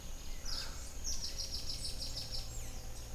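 Birds chirp outdoors in repeated bright, rapid trills over a steady background hiss and low rumble, moderately close and continuous, with no talking.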